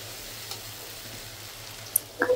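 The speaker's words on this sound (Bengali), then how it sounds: "এই যে এখানে পেঁয়াজটা ভালো করে ভাজা ভাজা করে নিছি" Onion frying in oil with ginger-garlic, cumin and onion pastes for a country chicken curry, a faint steady sizzle with a couple of brief utensil clinks near the end and no talking.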